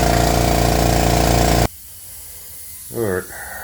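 Air compressor powering a paint spray gun roars loud and steady for under two seconds, then cuts off abruptly, leaving quiet room noise and a short voice near the end.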